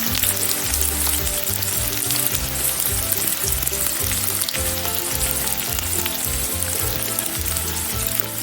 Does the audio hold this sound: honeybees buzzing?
no